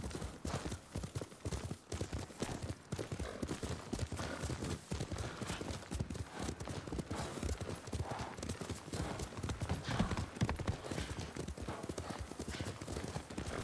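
Steady clip-clop of horse hooves at a walking pace in the video game Ghost of Tsushima, close and continuous, with faint background ambience.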